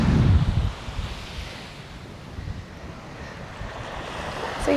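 Sea waves wash in at Prasonisi Beach on Rhodes, a steady broadband surf roar with wind buffeting the microphone, loudest in the opening moments and then settling into a constant wash.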